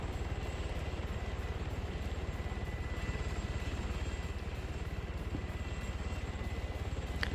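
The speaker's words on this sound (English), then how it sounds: "the chopper saw it. It's putting rounds in here." A helicopter in a large multiplayer military video game, its rotor thumping in a fast steady rhythm, loud and continuous throughout with faint game effects over it.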